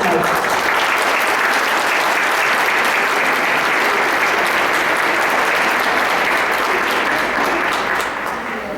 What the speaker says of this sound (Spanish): con un fuerte y caluroso aplauso